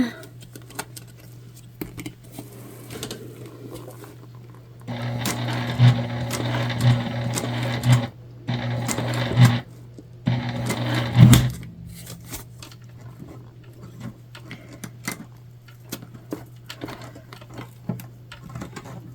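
A hand-cranked sewing machine stitches a tote bag in several short bursts of fast rhythmic mechanical clatter, close by, separated by brief pauses against a constant low hum.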